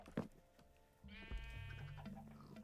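A sheep bleats in the Minecraft video game, a single drawn-out wavering bleat, moderately quiet and heard on its own after a short click.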